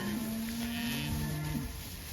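Cow/calf pairs on an outdoor cattle drive after plentiful rain give drawn-out moos, two overlapping calls sounding steadily and fairly close with no talking.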